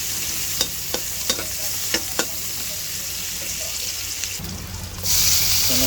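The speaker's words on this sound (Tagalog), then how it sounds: "from the same pan, gisa na tayo ng bawang at sibuyas" Garlic and onions sauté in a pan, a steady broadband sizzle running throughout with several sharp utensil clicks and scrapes in the first half, then a louder burst of hiss near the end as more goes in.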